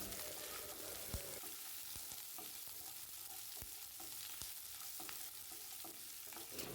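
Garlic and chopped onion frying in a pan for a breakfast dish, a quiet continuous sizzle broken by frequent sharp clicks and scrapes of a stirring spoon, close up and without voices.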